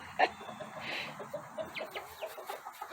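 Marans hens cluck softly outdoors in a farmyard: a few quiet, scattered clucks and short calls over faint background noise, with no voices.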